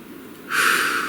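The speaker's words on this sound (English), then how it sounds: "Please take a nice deep breath." A single deep breath is drawn in close to the microphone, starting halfway through as a soft, airy rush that swells and holds after a quiet moment.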